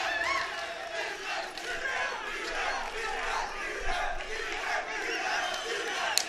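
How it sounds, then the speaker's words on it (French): At a kickboxing fight event, a large arena crowd chants a fighter's name in a steady rhythmic roar that runs throughout, heard from a distance and filling the space. "On peut entendre la foule qui scande le nom de Bilal."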